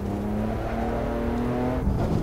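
BMW M4 engine in the Assetto Corsa racing game, a loud, sustained engine tone climbing steadily in pitch under acceleration, then dropping briefly as it shifts gear before rising again.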